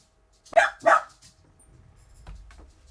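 A miniature dachshund gives two sharp, fairly close barks in quick succession, then falls quiet apart from faint low rustling and a brief distant sound.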